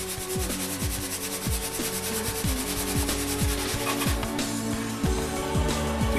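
Paintbrush dragged in quick zigzag strokes over canvas to imitate wood grain for an oil painting, a close rhythmic scrubbing rasp repeating several times per second, steady and dry.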